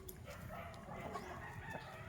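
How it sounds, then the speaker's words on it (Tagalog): Pet chickens, Brahma and Rhode Island Red fowl, cluck and chatter steadily at a backyard coop, with a rooster crowing partway through and a dog barking faintly in the distance. "update lang tayo sa mga alagang manok natin"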